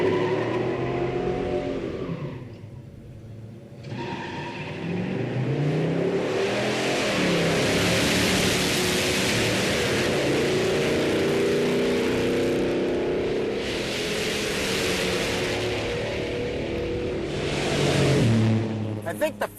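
A 455-engined intermediate A-body muscle car launches on a drag run, its engine roaring up through the gears with rising, sustained revs, close and loud, with brief shift dips between surges.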